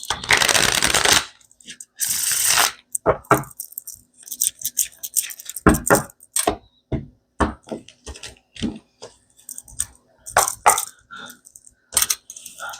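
Tarot cards shuffled in bursts, with loud riffling rushes followed by scattered taps, flicks and soft card slaps, all heard close up and interrupted by short pauses.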